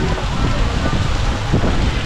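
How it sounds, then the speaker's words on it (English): Steady rain falls on an island resort in a continuous broadband hiss, fairly close and loud, with a faint murmur of voices underneath. "The rain has picked up now."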